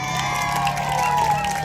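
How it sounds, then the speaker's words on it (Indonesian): Schoolchildren in the audience at an inter-school folk games competition cheer and clap in a steady, lively crowd roar with shouts mixed in, with a faint tonal whine running underneath. "tepuk tangan dulu"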